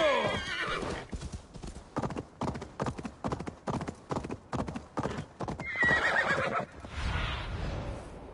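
Horse hooves clip-clop in a steady run of close, sharp beats in the video game Assassin's Creed Valhalla on PS5, followed by a loud neigh and whinny near the end.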